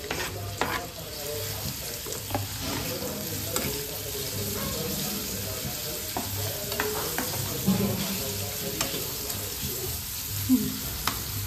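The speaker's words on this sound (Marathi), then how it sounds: "तर आता आपण सुक्क्यासाठी कांदा भाजून घेणार आहोत." Finely chopped onion fries in a pan for chicken sukka, sizzling steadily close by. Scraping stir strokes and clinks of a spatula recur throughout, with no voices.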